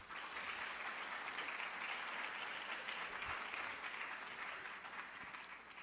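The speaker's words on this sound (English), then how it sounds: "not before we give Mrs. Ruchama Klapman and Mask a big round of applause" An audience at a workshop event on helping struggling children claps in a sustained, even round of applause from many people, steady throughout with no speech over it.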